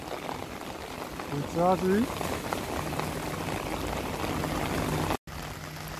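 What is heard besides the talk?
heavy rain falling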